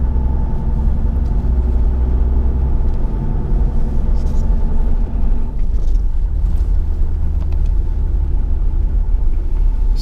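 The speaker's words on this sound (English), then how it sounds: "let's go for a little drive" A 1995 Toyota Land Cruiser 80 on the road in Japan, heard as a loud, constant engine and road rumble from inside the cabin, steady and unbroken throughout.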